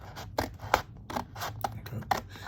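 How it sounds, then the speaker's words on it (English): Scissors snipping through cardboard in separate crunchy cuts, about five or six strokes at an uneven pace, close up. "we're just going to cut this out"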